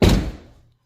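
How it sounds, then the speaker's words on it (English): An Audi A5/A4 car door shuts with a single solid, close thunk that fades quickly into silence. "Let's try closing the door."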